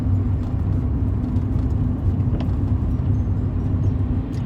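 Rover 45 2.0 V6 Connoisseur engine on the move, a steady low drone with a constant mid hum and broadband road roar, loud and unbroken throughout with no talk.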